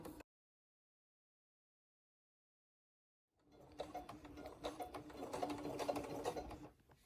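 A sewing machine stitching a pillowcase sham starts after about three seconds of silence, running in a fast steady mechanical whir of clicking needle strokes, close and moderate before stopping near the end.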